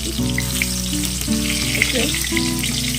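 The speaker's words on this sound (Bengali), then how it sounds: "সুন্দর করে আমি একদম বেগুনটা ভেজে নিচ্ছি।" Eggplant frying in hot oil, a continuous close sizzle and crackle with a few light stirring touches, loud and steady without any talk.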